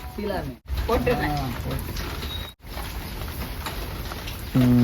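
Heavy rain falls steadily at home on a rainy Sunday, a constant broadband hiss that runs beneath close, continuous conversation.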